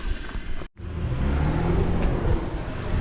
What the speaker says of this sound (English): There goes a tow truck or something.